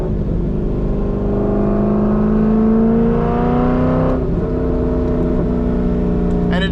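A C5 Corvette V8 with a BTR Stage 3 cam and manual transmission pulls hard under acceleration, a loud steady engine drone rising smoothly in pitch for several seconds before a brief shift and continued roar.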